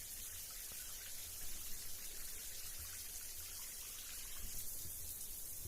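A shower runs in a steady, soft hiss of spraying water with faint dripping, continuous and even, with no voices.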